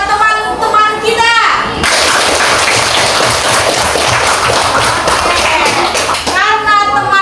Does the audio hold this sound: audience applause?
yes